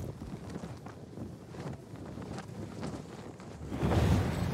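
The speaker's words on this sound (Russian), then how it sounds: "спасибо за ветер" Wind blows in the Dying Light 2 video game, a soft gusty rush with low rumbling buffets that swells louder near the end, with no speech over it.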